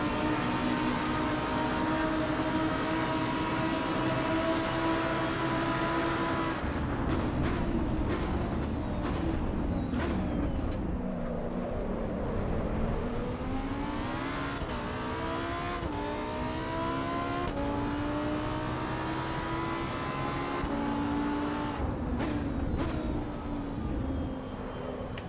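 A Lamborghini engine in the racing game Assetto Corsa EVO, loud and continuous, its pitch climbing through revs with abrupt drops at gear changes, heard up close for a long stretch without talk.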